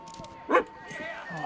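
A dog in the video game Valiant Hearts gives one short yip-like bark in the middle, with a person talking and game sounds around it.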